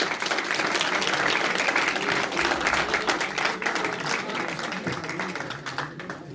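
Applause from a seminar audience welcoming the institute's director, a dense, steady clapping crowd that holds loud for about six seconds and only slightly thins toward the end.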